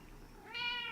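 One short, high cat meow rises out of a quiet background near the end, fairly faint and alone.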